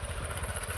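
A motorcycle engine throbs at low revs while rolling down a slope, a brief, even pulsing drone close by.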